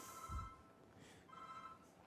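A mobile phone rings in a university lecture hall: two short bursts of a faint, distant electronic ringtone separated by a pause, heard in a quiet room with no one speaking.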